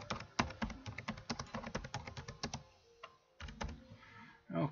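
Fast typing on a computer keyboard, a dense patter of close clicks in quick bursts with a short pause before another run, and no voices.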